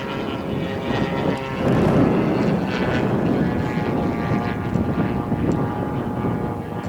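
An RC Bates Hellcat model airplane engine drones steadily at about half throttle, a continuous buzzing propeller sound heard from a distance with wind noise underneath.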